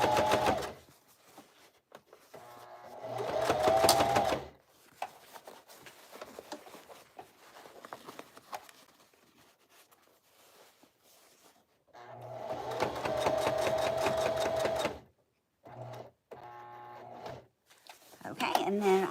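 A sewing machine stitches across the top seam of fabric in two loud, steady running bursts separated by quieter handling, with a voice talking in between.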